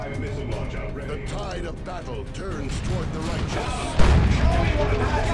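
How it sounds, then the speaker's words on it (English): A looted tank cannon shot in Dawn of War II: Retribution fires amid battle noise and ongoing commentary, with one sudden loud blast partway through that rings on afterward. "And look at that looted tank shot."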